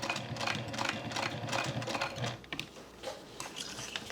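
A hand-cranked sewing machine labours through a thick bag strap, grinding and clattering in a steady mechanical rhythm that loosens into slower, separate knocks toward the end, close and fairly loud with no voices.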